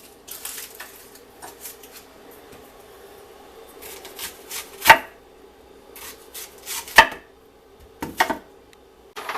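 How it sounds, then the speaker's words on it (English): Onions being chopped with a knife on a board for a rice dish, irregular close taps and scrapes that build into a few sharp, louder chops, with quiet pauses between bursts. "we want to get our onions chopped up"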